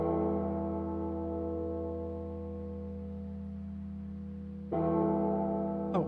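Church bells in a song ring with sustained, layered harmonic tones that slowly fade, then a fresh loud strike lands near the end, with no voices over them.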